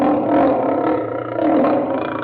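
Red King snoring with a lion-like roar: a deep, rough growling rumble that swells and fades twice over a couple of seconds, close and fairly loud.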